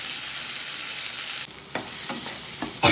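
Curry leaves, onion and tomato with salt sautéing in a hot pan, a continuous bright sizzle close up, with a few clinks and stirring scrapes near the end.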